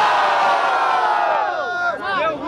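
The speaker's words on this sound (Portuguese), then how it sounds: "Barulho para as rimas do Alice" A rap battle crowd at Batalha da Aldeia in Barueri roars in sustained cheering, with whoops and shouts rising over a dense, loud wall of voices.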